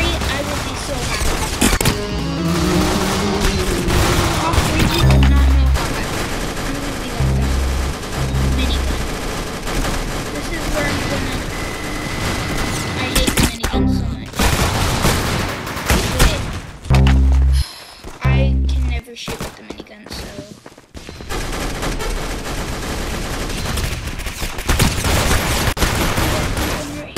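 Minigun fire in a video game comes in rapid, loud sustained bursts with heavy thumping impacts and booms, broken by pauses, while a person talks intermittently throughout.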